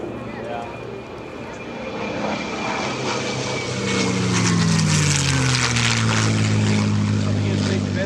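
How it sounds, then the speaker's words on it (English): A Corsair warbird's propeller engine roars past at the EAA AirVenture airshow, swelling from a distant drone to a loud, rising pass with a Doppler sweep, while an announcer and nearby spectators talk over it. "As the Corsair pulls up and out, ladies and gentlemen, diving in from the right."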